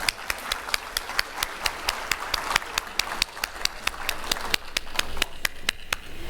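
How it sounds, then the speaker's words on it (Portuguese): Steady, rhythmic applause from a small group at a conference of Brazilian property registry officers, with individual claps sharp and evenly spaced throughout. "Uma salva de palmas."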